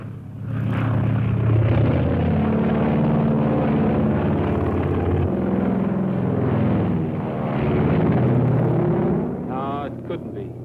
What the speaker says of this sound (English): I never saw that plane before.